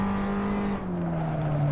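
A damaged Abarth race car in Assetto Corsa howls steadily at high revs, the engine note dipping slightly partway through, loud and close with no talk.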